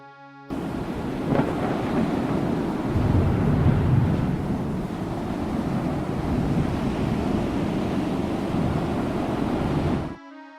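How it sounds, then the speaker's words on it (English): Rough ocean surf roars continuously for about ten seconds, a dense stormy wash of waves and wind with low rumbling underneath. "it shows that there is a storm about to happen and then switches to the pirate ship on the rough sea"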